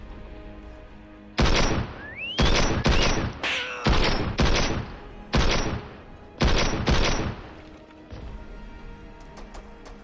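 Gunfire in the Fortnite video game comes as loud, sharp bursts of automatic shots in several rapid volleys with short pauses between them, plus a whooshing projectile sound.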